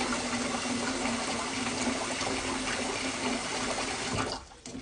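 Water pours steadily from a kitchen sink tap into a bowl for rinsing rice, a continuous rushing splash that stays even before easing off near the end.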